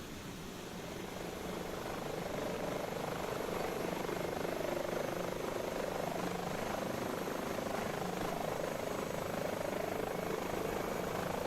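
Steady, loud rotor and turbine drone of an H145 helicopter in a flight simulator, engines running continuously with a broad whine and low thrum throughout, no talking.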